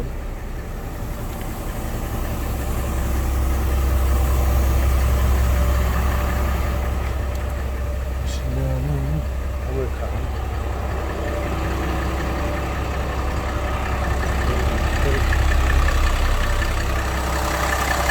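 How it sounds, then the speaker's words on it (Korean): A Hyundai Green City 34-seater bus engine idles with a steady, deep rumble, fairly quiet and unbroken, with no one speaking. "엔진 소리 아주 조용합니다."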